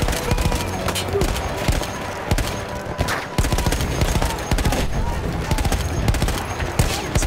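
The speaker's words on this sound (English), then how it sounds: "This machine gun is not very effective" Machine gun fire in the video game Battlefield 1, rapid dense bursts of automatic shots crackling almost continuously, loud and close, with scattered other gunfire and game noise mixed in.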